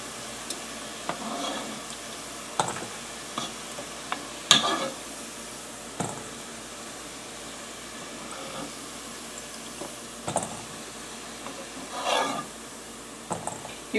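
Struffoli honey balls of dough frying in a pot of hot oil give a quiet, steady sizzle, punctuated by occasional soft scrapes and clinks of a utensil against the pot, with no talking.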